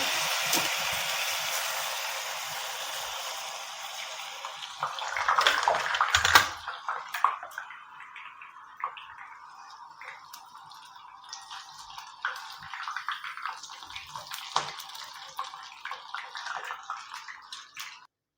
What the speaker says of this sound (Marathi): हे पहा आता शेवचे बुडबुडे कमी झाल्यात